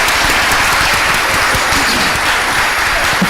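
Crowd at an MLK Day Children's March for Peace claps loudly for the governor, a dense, sustained roar of applause holding at full level throughout, close and uninterrupted by talk.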